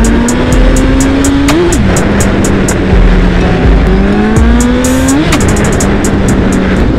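A Suzuki Hayabusa superbike engine revving hard on an empty village road: a loud, sustained roar that rises and falls in pitch, with a couple of sharp pops standing out from the drone.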